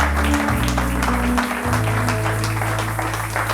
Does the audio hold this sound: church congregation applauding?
yes